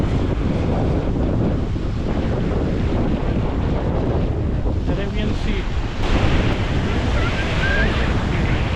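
Surf rolls in steadily along the seashore at Dwarka, Gujarat, a continuous broadband wash of breaking waves with wind buffeting the microphone throughout.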